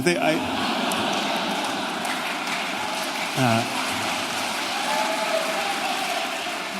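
Audience applause at a 2018 debate in Vancouver, a steady dense wash of clapping from a large hall crowd filling the whole stretch, with a brief voice rising over it partway through.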